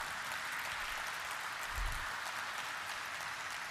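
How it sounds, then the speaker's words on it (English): Audience applause at a stock exchange listing ceremony for Apeejay Surrendra Park Hotels, a steady, fairly quiet wash of many hands clapping, with one low thump partway through. "can we please have a huge round of applause for the company"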